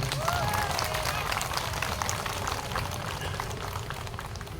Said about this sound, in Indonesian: Tepuk tangan dong buat adik-adik kita.